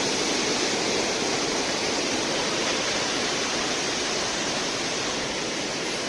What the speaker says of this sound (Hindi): पानी देखो कितना तेज है